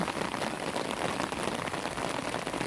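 Rain falls steadily on a Thai home where potted lotus plants sit outside, making a soft, even hiss of drops with no breaks and no voices.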